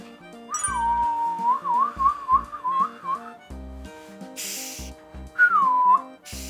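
A giant cockroach hisses with a loud, wavering whistle-like sound that rises and dips in pitch for a few seconds, pauses, then returns briefly, with soft rustling and handling noise.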